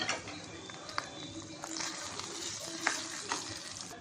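Cashews frying in ghee for sweet pongal, a steady close sizzle with occasional stirring clinks, running continuously without speech.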